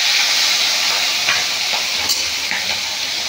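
Fish dropped into hot oil in a home kitchen gives a loud, steady sizzle and hiss, with a few sharper crackles and spits throughout.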